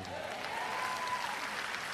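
A church congregation at an El Shaddai healing service claps together in a dense, steady burst of applause that fills the whole moment.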